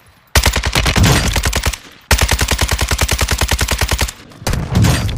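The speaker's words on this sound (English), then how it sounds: "They're shooting at me." Automatic gunfire in Call of Duty Warzone comes in two long rapid bursts and a shorter one, each a loud, tightly spaced stream of shots with brief pauses between.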